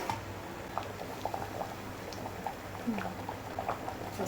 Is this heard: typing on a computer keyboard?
no